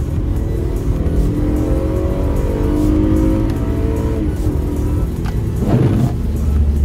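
A 2014 Acura TL in manual paddle-shift mode accelerates hard on a road, its engine rising in pitch through a gear and then shifting, loud and steady from inside the cabin.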